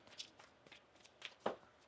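Soft, quiet riffling and slapping of tarot cards being shuffled, a few irregular bursts with one sharper snap near the end.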